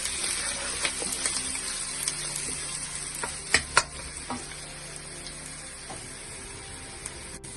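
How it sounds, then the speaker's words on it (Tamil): Garlic and ginger sauté in a pan with chillies in a home kitchen, a continuous close sizzle and crackle with a few sharp spoon-against-pan clinks. "garlic, ginger, லைட்டா வதக்கிடலாம்."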